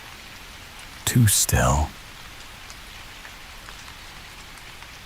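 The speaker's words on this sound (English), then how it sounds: "She always found comfort in the sound of rain tapping against the glass." Steady rain falling and tapping against a window glass runs as a soft, even wash throughout, briefly covered by a short spoken phrase near the start.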